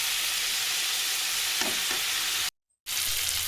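Chicken pieces frying in a pan: a steady, close, broadband sizzle runs throughout, with a brief dropout to silence near the end before the hiss resumes. No talking.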